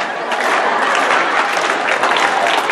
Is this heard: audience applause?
yes